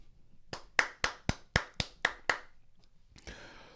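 A single person claps hands eight times at a steady, moderate pace, close and sharp, followed by a brief rustle, with no talking.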